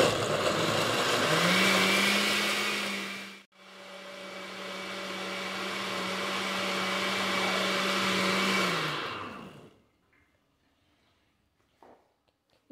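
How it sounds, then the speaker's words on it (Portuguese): A kitchen blender whirs loudly through pudding batter with sugar and crushed biscuits, stopping briefly after a few seconds, then running again in a long steady whine before spinning down to near silence. "Agora nós vamos bater por uns 2, 3 minutinhos para triturar bem essa bolacha."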